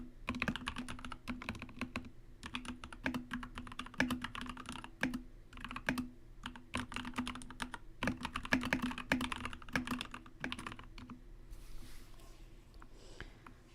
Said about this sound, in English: Angrily typing.